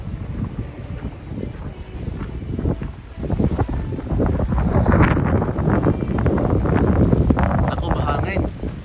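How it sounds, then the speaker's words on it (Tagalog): Gusty wind in Waterton, Alberta, in the Canadian Rockies, buffets the microphone in rumbling bursts that strengthen midway, while people talk underneath. "Ako, mahangin."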